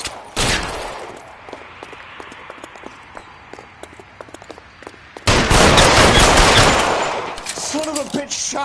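Gunfire in L.A. Noire: a sharp shot opens, then scattered cracks and clatter before a sudden loud burst of sustained shooting, close and forceful, continuing to the end.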